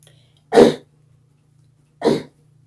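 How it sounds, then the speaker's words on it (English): Two separate bursts, one cough and one throat clearing, close to the mic, with a low steady hum during the quiet gap between them. "Sorry for my constant coughing throughout my videos"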